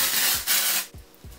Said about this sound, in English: in different places and just kind of spray this